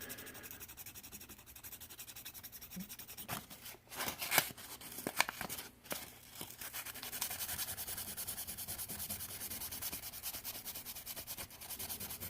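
An emery board rubs across a Hot Wheels diecast '69 Chevelle body, giving soft, scratchy back-and-forth sanding strokes that start faint, then grow into a denser, steadier rasp with a few sharper scrapes.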